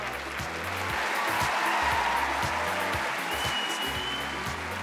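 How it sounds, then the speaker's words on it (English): An audience applauds during a dog talent show audition, a steady, moderately loud wash of clapping from a crowd, underscored by low rhythmic music. "Give them a round of applause."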